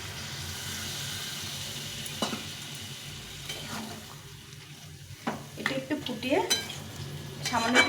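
Boiled water goes into a vegetable soya bean curry in a frying pan, with sizzling, stirring and a utensil clinking against the pan, growing busier toward the end.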